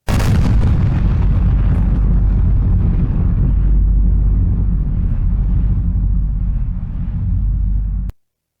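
A bomb explodes with a loud, close blast, and a long, deep rumble rolls on for several seconds before cutting off abruptly.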